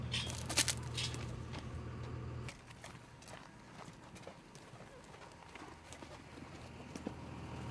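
Wild horses running toward a trap, their hooves clip-clopping in quick irregular beats, loud at first and then softer and farther off, with a voice talking over them.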